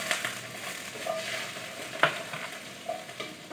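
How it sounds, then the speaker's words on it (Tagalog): Garlic frying and being stirred in a home kitchen pan, a steady soft sizzle with a few scraping stirs and a sharper clink near the middle, no talking. "Lagay tayo ng bawang."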